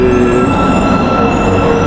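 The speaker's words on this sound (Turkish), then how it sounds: "Evet, beklenen metro geldi." A metro train in Kazakhstan pulls into the station with a loud, steady rumble of rolling wheels, faint high squeals and humming motors close by, with no voices.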